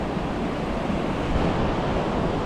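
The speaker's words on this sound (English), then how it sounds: "the noise of the waves crashing all night" Ocean surf rolls and crashes onto a beach in Olympic National Park, a broad, continuous roar of waves mixed with wind, loud and unbroken, with no voices.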